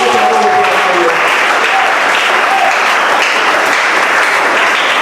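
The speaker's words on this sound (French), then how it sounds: "Applaudissez pour le Seigneur." Loud, continuous applause from a church congregation during a sermon fills the whole stretch, with some voices faintly mixed in under the clapping.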